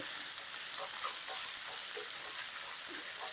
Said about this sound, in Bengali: মিশিয়ে হাই ফ্লেমে ভালো করে ভেজে নেব সমস্ত সবজিটাকে